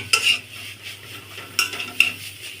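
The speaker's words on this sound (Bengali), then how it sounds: "সবজির সাথে সবজি ভালোভাবে মিশিয়ে নিন" Vegetables are stirred and mixed with spices in a pan: a spatula scrapes and knocks against the metal in a few distinct strokes over a faint sizzle. No one talks.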